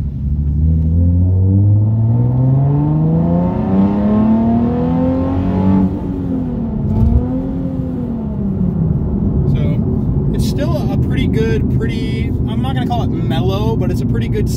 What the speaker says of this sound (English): So let's see what it sounds like with the windows up. We'll just do another quick little pull.